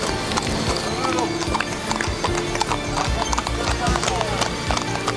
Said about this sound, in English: Dennis Pesch, his horse, Melfinic, is a gelded gray French saddle horse 15 years old